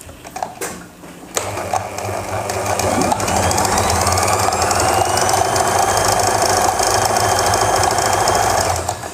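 A sewing machine runs steadily while stitching elastic onto trousers, a loud continuous mechanical whir with rapid needle clatter that starts after a brief pause and holds at a constant pace, with no voices.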